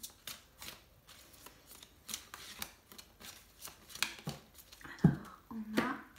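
Oracle cards are shuffled for a tarot reading, with quick soft riffling and tapping bursts in an uneven rhythm, heard up close and quiet, and a couple of louder clacks near the end.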